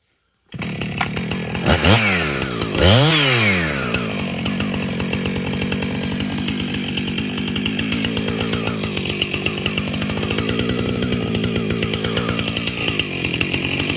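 A chainsaw makes the back cut while felling a tree, revving up in two sharp rises before settling into a loud, steady, close whine as it bites through the wood.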